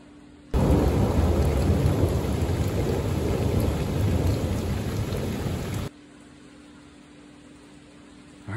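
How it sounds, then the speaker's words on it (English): Heavy rain pours down outside a kitchen window, with a dense, loud roar of rainfall and rolling thunder. It stops abruptly, leaving quiet room tone. "I'll put a clip of what the rain's doing outside"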